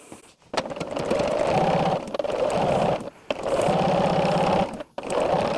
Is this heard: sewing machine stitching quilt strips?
yes